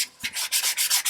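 Sandpaper rubs a resin 3D-printed visor in quick back-and-forth strokes, about six close, rhythmic scratchy passes in a little over a second.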